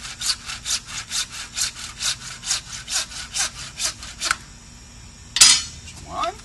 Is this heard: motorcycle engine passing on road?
no